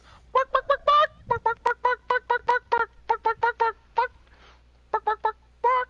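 A man imitates a chicken with rapid rhythmic honking clucks, delivered in loud close bursts of three or four calls separated by short pauses.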